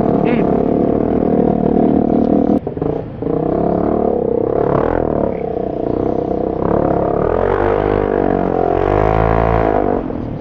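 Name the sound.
loud Italjet scooter engine in traffic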